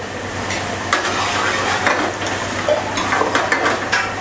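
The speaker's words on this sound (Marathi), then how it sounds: "आता हे पीस जे आहेत ते अजून फ्राय करून घेतले जातील" Mutton pieces frying with grated coconut in a pan for Malvani mutton curry, a loud close sizzle with quick scraping stirs and light metal clinks every fraction of a second, no voices.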